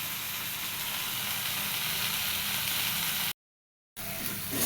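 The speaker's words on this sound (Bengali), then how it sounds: "ভাজতে হবে, আরও শুকনো শুকনো করতে হবে" Taro leaves (kochur shak) frying in a pan give a steady, broadband sizzle and hiss with no voices, broken by a brief dropout near the end before the sizzle resumes.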